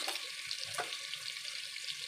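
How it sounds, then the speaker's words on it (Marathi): Mustard and cumin seeds crackle in a little hot oil with asafoetida in a heated pressure cooker, giving a quiet, steady sizzle with fine popping throughout and no voices. "राई जिरा तडतडलेला आहे चांगला"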